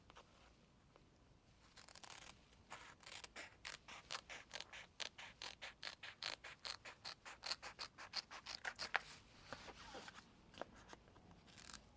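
Scissors trimming paper for a mini album, a steady run of close, crisp snips in quick rhythm, quiet and alone with no talking.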